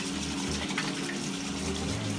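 Hot tap water runs steadily from a faucet into a sink while hands are washed, a close, continuous splashing gush with a low hum beneath and no talking.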